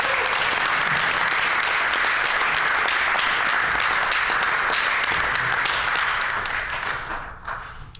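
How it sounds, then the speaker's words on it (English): Round of applause in the Manitoba legislative chamber, a dense sustained burst of many hands clapping that stays loud for several seconds and then tapers off near the end. "I think we should all give her a round of applause."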